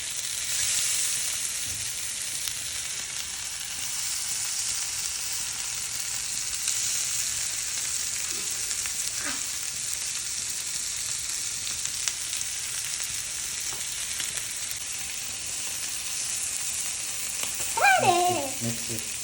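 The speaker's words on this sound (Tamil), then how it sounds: "நம்ம இப்போ ப்ரானை ஃப்ரை பண்ண போறோம்." Prawns frying in a little oil in a pan for a barbecue-style dish, heard as a continuous close sizzle and crackle with occasional stirring, and a brief voice near the end.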